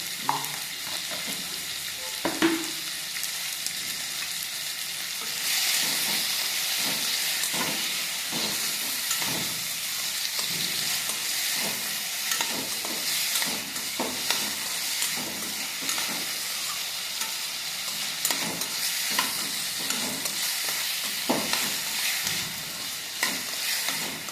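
Tomatoes sautéing in a pan for a village-style curry leaf chutney, a bright steady hiss and sizzle with intermittent clatters and scrapes of stirring, nearby and without speech.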